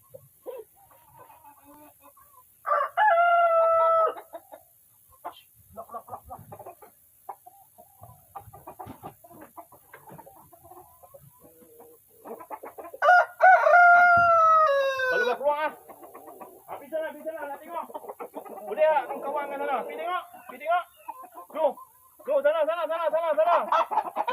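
Chickens cluck and roosters crow nearby in a backyard flock including a Rhode Island Red, with two loud crows standing out among scattered clucks and a voice speaking briefly.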